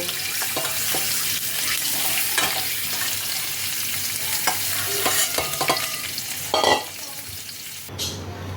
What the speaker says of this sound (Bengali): ডিমগুলো হালকা করে ভাজা হয়ে গেছে।